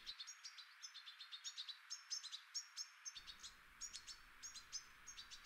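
Goldfinches give rapid, twittering chirps in a steady run of short tinkling notes, fairly clear against quiet background, with a brief break and then the calls continuing.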